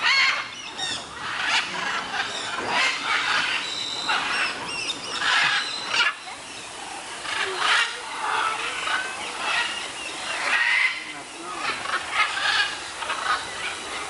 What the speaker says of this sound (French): T'as vu Lana, tous les perroquets partout?